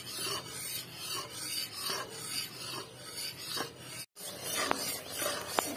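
Milk powder burfi mixture stirred in a pan, a continuous close scraping and rasping of a spoon against the pan bottom in repeating strokes, with a short break and a couple of sharp clinks near the end.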